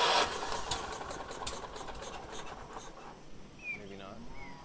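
A small riding lawn mower engine being built for racing cranks over with choke and throttle, a run of rapid rhythmic chugging pulses that fades out, followed by quieter sounds and a voice speaking.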